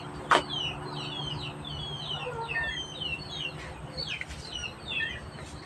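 Chickens cluck and peep in short, scattered calls at moderate distance, with one sharper call near the start over a low steady background hum.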